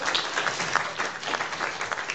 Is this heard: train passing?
no